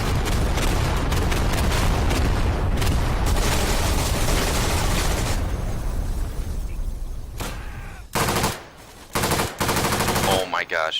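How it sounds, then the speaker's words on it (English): Carpet bombing in the Day of Infamy war game: a long, dense roar of overlapping blasts and rumbling explosions, loud and continuous, breaking into separate booms and gunfire bursts toward the end. "That's a carpet bomb coming in?"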